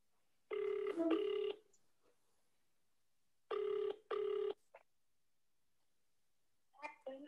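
Ringback tone of an outgoing phone call heard through a call line: two paired double rings separated by silence, then a brief burst of speech at the end.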